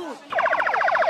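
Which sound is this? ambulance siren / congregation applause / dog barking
ambulance siren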